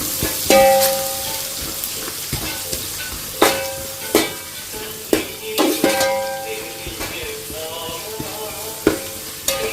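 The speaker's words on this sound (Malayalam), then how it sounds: "സവാള ഇടണം പോലെ അങ്ങോട്ട് ഇളക്കുക നല്ല പോലെ അങ്ങോട്ട് ഇളക്കാം" Onions for a chicken-parts dish are stirred and fried in a pan, giving a steady close sizzle broken by scraping strokes and sharp clinks of the spoon against the pan.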